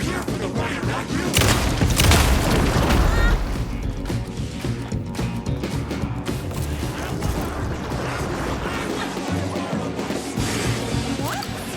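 Gunfire in Alan Wake II: a loud crashing blast early on, then a dense, continuous clatter of shots and impacts that holds at steady volume for the rest of the clip.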